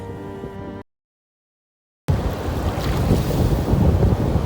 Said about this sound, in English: The waves are big, look.